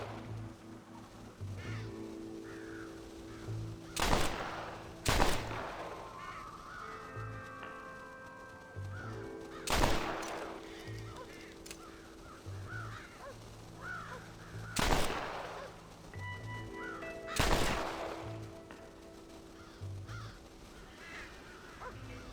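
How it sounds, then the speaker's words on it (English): Crows caw repeatedly in Red Dead Redemption while stealing corn, with sharp harsh calls and loud bangs at intervals over a quieter game soundscape. "The crows are stealing the corn."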